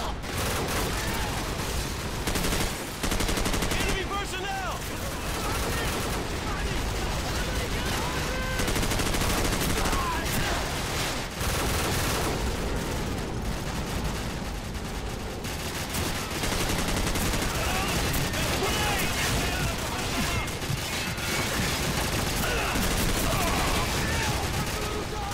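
Continuous gunfire in a video game, with bursts of rapid shots and a constant loud battle din over the whole stretch, and a player voice talking faintly underneath.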